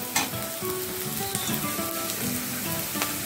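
Onion sautés in a kadai until soft, a close, steady sizzle with brief scraping stirs and light spatter throughout.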